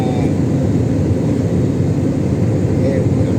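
Steady broadband drone of a SriLankan Airlines UL264 jet in flight from Saudi Arabia to Colombo, heard from inside the cabin as a loud continuous roar, with a voice talking over it.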